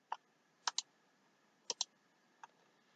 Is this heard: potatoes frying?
no